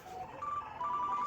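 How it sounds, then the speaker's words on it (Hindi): A phone rings with a repeating electronic ringtone, fairly close and moderately loud, against a faint ambient background with no talking. "सर तुम्हारा फोन है"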